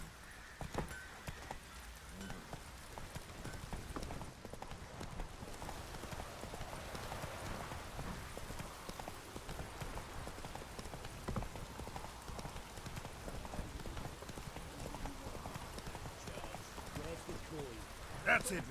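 In a video game, the horse Roach gallops with a rapid, continuous clip-clop of hooves under a rainy backdrop, heard at a moderate distance while a voice speaks over it.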